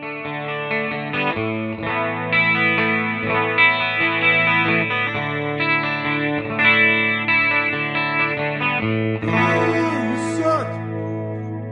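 A Squier Classic Vibe 60s Jazzmaster electric guitar, clean through a Spark amp with a little reverb, plays chords with a shimmering chorus-like modulation, ringing and sustained, alone without talking.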